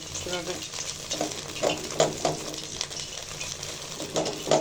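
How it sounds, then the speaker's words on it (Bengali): Egg is scrambled in a hot pan for chicken fried rice, with a continuous close sizzle broken by rhythmic scraping strokes of a spatula stirring it. "তো ডিমটা স্ক্র্যাম্বল করে নিব, একটু ঝোড়া ঝোড়া করে নিব"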